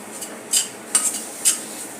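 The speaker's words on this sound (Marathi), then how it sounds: "आता या चांगले परतून घेऊया" Coconut and garlic paste stirred in a pan, with three or four sharp metallic scrapes and clinks of a spoon against the vessel over a faint, quiet background.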